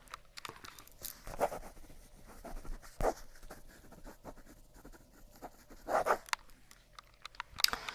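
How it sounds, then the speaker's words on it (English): Soft scratching of a pen or pencil on paper in a quiet whispered ASMR setting, with short strokes clustered in a few brief bursts spread across the moment and faint rustles between them. "I'll write that down."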